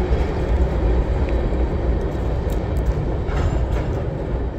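A southbound train rumbles past at close range, a loud continuous roar of wheels and rail noise holding steady throughout with no voices.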